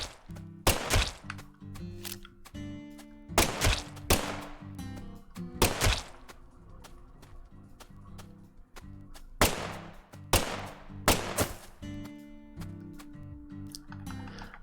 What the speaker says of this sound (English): Wasting so many rubber bullets